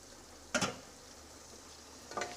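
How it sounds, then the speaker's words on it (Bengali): Chicken pieces frying with onions over medium flame, a soft steady sizzle broken by two short stirring scrapes, quiet and close with no talk. "পেঁয়াজের সঙ্গে চিকেনটা তো ফ্রাই হচ্ছে"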